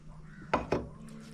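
Fish curry and gravy being served onto a plate, with two sharp clinks of a utensil against the dish over a low steady hum, close and fairly quiet.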